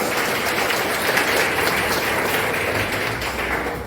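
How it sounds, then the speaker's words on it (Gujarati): Applause welcoming guests at a birthday gathering, a sustained wash of many hands clapping that fades slightly toward the end. "આપણે સૌ તમામ મહેમાનોનું તાળીઓથી સ્વાગત કરીએ"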